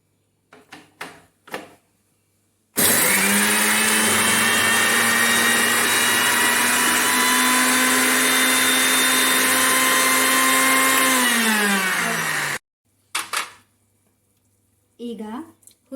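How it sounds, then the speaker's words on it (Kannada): A mixer grinder grinds spices with turmeric and salt, running as one loud, steady whirring drone for about ten seconds, then winding down as it stops, with brief talk before and after. "ಸ್ವಲ್ಪ ಅರಶಿನ, ಸ್ವಲ್ಪ ಉಪ್ಪು. ಇದನ್ನು ಮೊದಲು ರುಬ್ಬಿಕೊಳ್ಳೋಣ."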